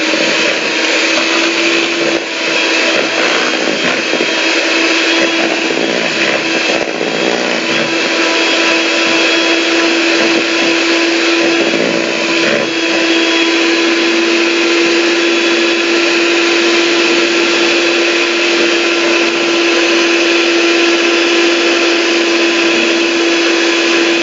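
An electric mixer whirs continuously at high volume with a steady motor hum and whine while mixing powder, close and unbroken throughout with no talk.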